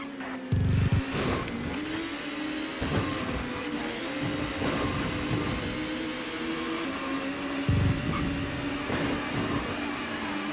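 Touring cars race in the TOCA Touring Car Championship game at Thruxton, a Ford Mondeo and Audis among them, their engines a continuous droning whine with a couple of short low thumps.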